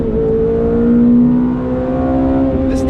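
A Ferrari F430 engine while driving, a loud, close, smooth drone with a brief swell in revs before settling back to a steady cruise.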